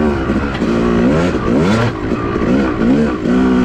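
A Yamaha YZ250 two-stroke dirt bike engine revs loud and close on an off-highway trail, its pitch rising and falling continuously as the rider works the throttle.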